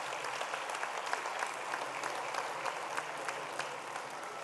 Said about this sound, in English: A round of applause for Mr. and Mrs. Tambo and the Tambo family